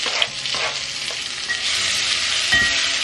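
Diced onion sautés in oil in a pan, giving a loud, steady close-up sizzle with a few soft stirring knocks and no talking.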